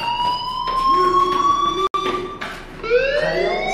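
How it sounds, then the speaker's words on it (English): A fire alarm in the video game Life is Strange rings loud and steady, holding shrill electronic tones throughout with a brief dropout midway, then rising in pitch near the end. "Hey, do you hear that fire alarm? That means you should be outside."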